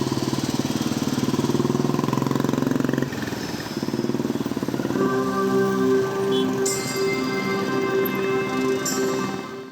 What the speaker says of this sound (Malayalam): കൈമനം മാതാ അമൃതാനന്ദമയി മഠത്തിൽ നിന്നും ആരംഭിച്ച ബൈക്ക് റാലി സ്വാമി ശിവാമൃതാനന്ദപുരി ഫ്ളാഗ് ഓഫ് ചെയ്തു